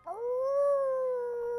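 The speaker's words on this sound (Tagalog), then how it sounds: "palakas ng palakas ang pag-alulong ni Blackie" A dog howling outdoors on a terrace, a single long, steady, tonal wail that rises sharply at the start and holds nearly level for over a second, loud and alone.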